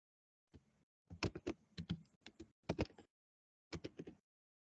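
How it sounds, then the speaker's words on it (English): Students tap away on computer keyboards in a Java programming class, bursts of rapid, close keystrokes in several clusters separated by short pauses, with no talking. "while you guys are typing"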